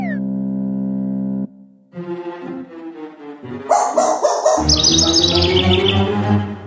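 Cartoon baby bird from Pocoyo chirps in bright, rapid tweets after a held tone and bouncy musical sounds, the chirps growing louder toward the end over a layered cartoon backdrop.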